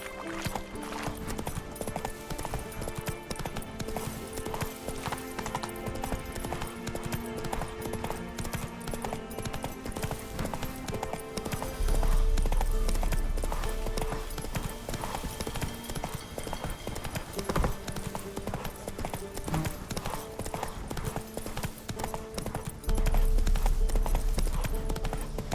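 Horse hooves clip-clop steadily in The Witcher 3, a continuous rhythmic trot heard under a constant music bed, with occasional neighing.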